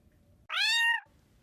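A single clear, loud cat meow, drawn out for about half a second against a quiet background.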